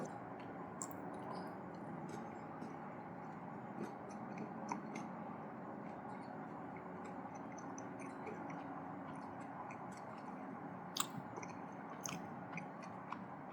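Quiet, close-up chewing of a chocolate and caramel mousse bar with macadamia and crunchy chocolate pearls, with soft wet squishes and scattered sharp little crunches over a low, steady background.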